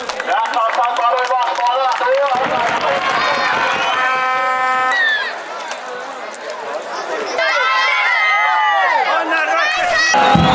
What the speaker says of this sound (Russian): Гул на трибунах. трибунах негодование.